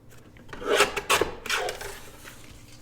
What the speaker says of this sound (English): I'll probably trim this one off a little bit at the edge